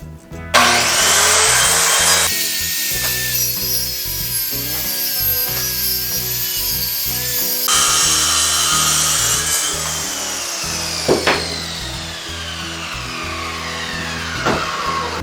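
A power saw guided by a straight edge rips the natural edge off a black walnut board, a loud continuous whining cut that shifts in pitch as the blade bites, with brief knocks near the end.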